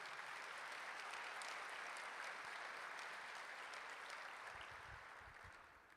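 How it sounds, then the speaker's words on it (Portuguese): A church congregation at a family worship service claps together in sustained, dense applause that fills the room at moderate volume, then gradually thins and fades toward the end. "Dá um aplauso aí a Jesus."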